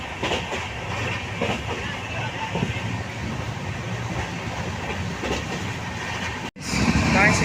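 The Chennai Central–Mysuru superfast express rumbles steadily along the rails near Sholinghur with a constant rolling roar and faint rhythmic clatter, briefly cutting out near the end before resuming louder.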